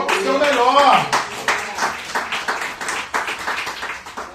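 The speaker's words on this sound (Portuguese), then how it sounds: "aplauda o Senhor por seu melhor" A church congregation clapping during a worship service, scattered rhythmic claps mixed with voices, following a brief sung or spoken phrase at the start.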